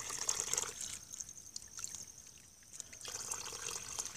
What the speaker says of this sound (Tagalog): Nalagyan ng bato-bato para umagos